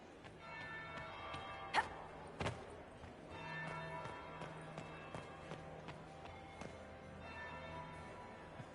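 A church bell tolls in a Dragon Age video game scene, its ringing tone sustained over a steady ambient bed with a few sharp knocks and soft footsteps nearby; no one speaks.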